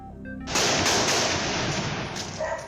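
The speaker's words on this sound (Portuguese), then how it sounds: "Tiros são disparados logo na entrada dos policiais militares." Gunfire erupts as military police enter a site held by drug traffickers, a sudden loud burst of sharp cracks that rolls on as sustained crackling for about two seconds.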